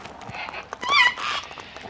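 Wild Australian birds give a few high, thin squeaks in a quick cluster, close by, with soft rustling and faint background noise around them.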